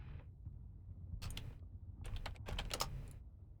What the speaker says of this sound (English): I am typing in all caps like a weirdo.